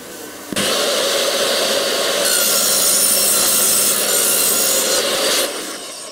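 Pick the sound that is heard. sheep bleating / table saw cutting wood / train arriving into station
table saw cutting wood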